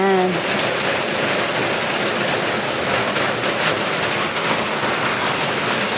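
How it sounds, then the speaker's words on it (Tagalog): Rain falling on a roof of a provincial home kitchen, a dense, steady hiss of drops that runs unbroken and fairly loud, with a faint voice briefly at the start. "may patak ng patak na ulan sa bubong"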